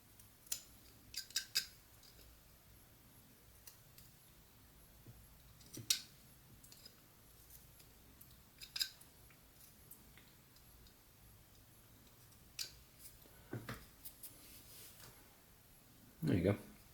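A knife whittles wood while carving a mouth, giving sparse, sharp scraping and clicking cuts at irregular intervals, close and quiet, with a louder cluster at the end and soft talking in the background.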